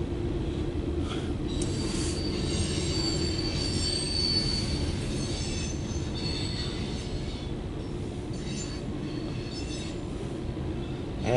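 CSX mixed freight train Q416-16 rolls steadily past close by, its wheels squealing high and continuously over the heavy rumble of railcars throughout.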